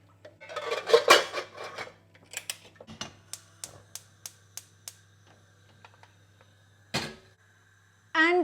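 A spoon stirring chana dal lentils and water in a pot, giving a run of clinks and scrapes followed by a series of evenly spaced sharp taps against the rim, with a brief voice near the end.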